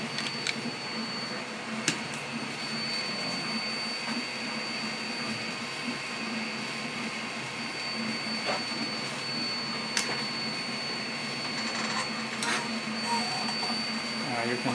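A 2 x 10 watt double beam diode laser engraves stainless steel, giving a steady mechanical whir with a thin high whine and occasional clicks, continuous and fairly quiet.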